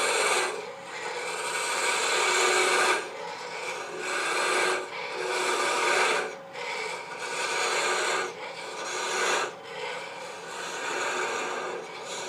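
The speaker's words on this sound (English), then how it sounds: "Now we're going to part off this ear, again with a thin parting tool." Thin parting tool cutting into a wooden elephant ear turning on a lathe, a steady raspy scraping in several bursts with short pauses between cuts, close and fairly loud with no talking.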